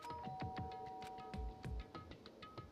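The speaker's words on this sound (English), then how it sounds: "pressed the doorbell" A chiming doorbell rings in the video game Danganronpa, a short sequence of bright tonal notes over busy in-game ambience and music, with no talking.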